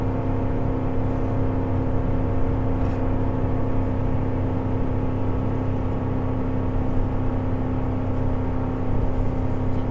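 Steady, loud engine drone of a 2014 Toyota Tundra pickup heard from inside the cab at wide open throttle near 4,000 RPM, a constant whirring rumble with no break.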